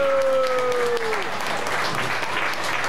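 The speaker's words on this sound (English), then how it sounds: "Give them a big round of applause." A crowd applauds at a Walt Disney World show in 2002, with dense, continuous clapping from an audience that holds steady for three seconds, partly overlapping a fading tonal sound.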